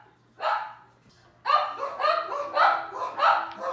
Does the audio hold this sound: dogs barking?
yes